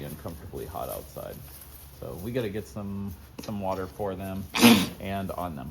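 A sharp, loud sneeze from a farm animal breathing hard in hot, humid weather bursts out once, close by, in the middle of ongoing talk.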